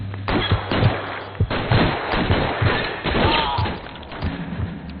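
Gunfire in the LA Noire video game: a rapid burst of loud pistol and rifle shots with heavy thuds, close and overlapping, with faint game voices underneath.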